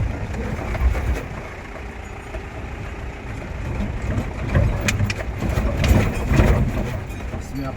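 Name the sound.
Mahindra Bolero Camper driving through a pothole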